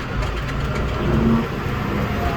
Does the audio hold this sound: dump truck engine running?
yes